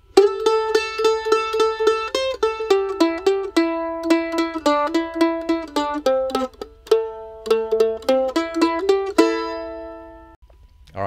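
Mandolin playing the first line of a tune, a quick run of bright, sharply plucked notes in a steady rhythm that ends on a ringing note and fades, with no talk.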